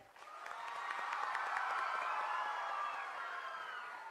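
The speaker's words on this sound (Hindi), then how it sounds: "एक बार जोरदार तालियां हो जाए" Crowd applause at a live Durand Cup trophy showcase event after a musical performance, swelling in over the first second into a steady, moderately distant wash of clapping with some cheering mixed in.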